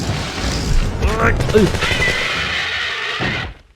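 Rapid gunfire in the survival-horror game Dino Crisis, a basement fight against attacking dinosaurs, with loud sustained shots and a creature's cry, ending abruptly.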